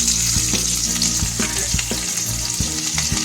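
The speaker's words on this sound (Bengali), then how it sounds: "এবার আমি ওই ভাজা তেলে দিয়ে দেবো হচ্ছে রসুন, পেঁয়াজ" Steady loud sizzling of garlic and onion frying in hot oil, with occasional stirring scrapes and clicks, close and continuous throughout.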